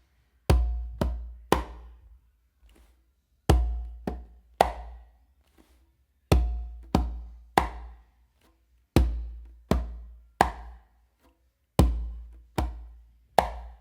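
A bolero pattern played on congas: a bass tone from the non-dominant hand, then finger strokes and a close slap from the dominant hand. Crisp, dry hand strikes come up close in repeating groups of three and four, with short pauses between, and no talking.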